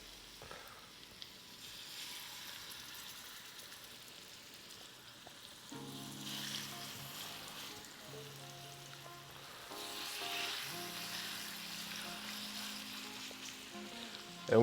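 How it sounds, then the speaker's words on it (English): Chicken thighs frying in hot oil in a pan give a steady, close sizzle that swells after the first few seconds and holds for the rest, with crackles rising and falling and no voices. "Ooh, you hear that sizzle?"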